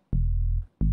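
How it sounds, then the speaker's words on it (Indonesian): Two deep sub-bass notes from a sub-bass synth, one held about half a second and another starting just after, loud and smooth with nothing else playing. "bassnya sama menggunakan subbass 2, susunannya seperti ini"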